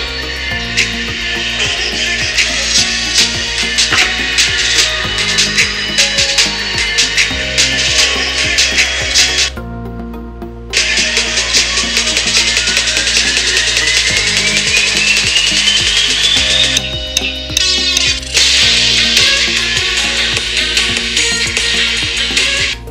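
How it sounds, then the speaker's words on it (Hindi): A song plays loudly through the built-in speakers of an ASUS VivoBook 15 laptop, dense and continuous, with a short break partway through and a long rising sweep before the music returns full. "तो अभी मैं आपको एक इसमें सॉन्ग प्ले करके दिखा देता हूँ।"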